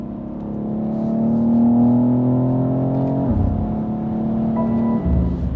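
A 2022 BMW X3 M Competition engine blips and revs through downshifts, a steady loud drone stepping down in pitch twice as gears change, heard close from inside the cabin with no talk.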